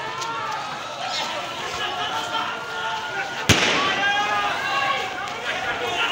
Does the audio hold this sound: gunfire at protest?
yes